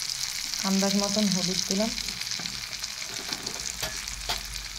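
Tomato and spices with turmeric frying in a pan, a close sizzling hiss with scraping stir strokes, while a voice speaks briefly over it.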